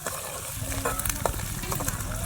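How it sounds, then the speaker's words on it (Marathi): Ginger pieces and garlic sautéing in a pan, a steady close sizzle with faint scraping stirs and a soft voice murmuring underneath. "अद्रकचे तुकडे पण मस्त कच्चेपणा जाईपर्यंत आपल्याला परतून घ्यायचं आहे"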